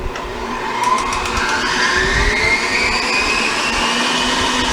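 An electric mixer whirs steadily while blending an ice cream cake mixture, a continuous close motor drone with rising and falling whine as the beaters work, no voices over it.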